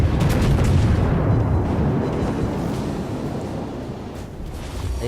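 Naval shell fire and impacts in the World of Warships video game form a dense, heavy rumbling roar that starts loud and slowly fades over a few seconds, with no voices.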